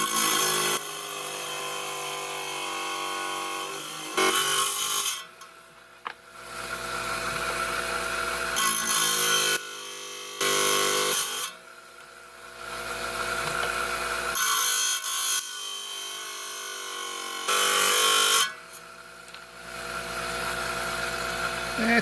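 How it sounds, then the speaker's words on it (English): A small 5-inch trim saw cuts through turritella stone, giving a steady grinding whine that comes and goes in stretches as the blade bites and eases off, fairly quiet and close, with no talking. "So we're down here on my 5-inch high-tech trim saw."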